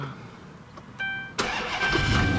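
A 2014 Dodge Charger police pursuit vehicle with a 5.7 HEMI V8 is push-started: a few soft clicks and a short chime, then the engine catches with a sudden roar and settles into a steady, loud idle.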